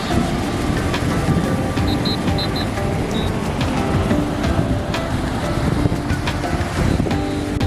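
Strong waves break and roll on a beach in a continuous loud roar mixed with heavy wind buffeting the microphone, with a few faint distant calls briefly over it.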